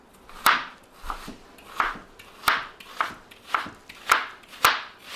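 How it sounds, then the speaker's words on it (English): Onions being chopped on a cutting board for vegan spaghetti, a steady run of about ten crisp knife strokes at an even rhythm, close and clear with no talk. "So when I'm making my spaghetti, I always chop the onions up first."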